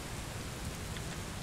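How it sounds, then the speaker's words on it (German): Steady, dense rainfall hissing evenly throughout in the video game Bus Simulator 18, a constant wash of drops with no other sounds standing out. "Und es regnet."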